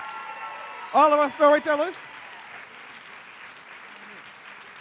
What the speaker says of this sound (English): Keep it going. Some shouts, rounds of applause.